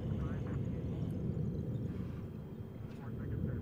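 A lunar lander's engine thrusts at full throttle in Lunar Flight, a steady low roar that holds even throughout while someone talks over it.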